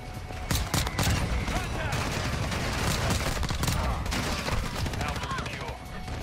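Rapid bursts of shotgun gunfire from the video game Modern Warfare 2, dense and continuous, with blasts overlapping loud game effects and occasional talk.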